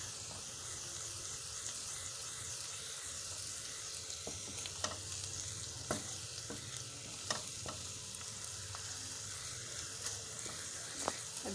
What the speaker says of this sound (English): So this is garlic. Let it cook very fast